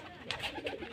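Pigeons coo softly at close range, a few short throaty calls packed into one second with no other voices.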